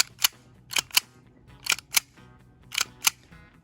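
An all-steel EMG John Wick STI 2011 replica pistol gives sharp, close metallic clicks and clinks, arriving mostly in quick pairs with short gaps between them.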